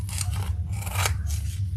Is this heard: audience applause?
no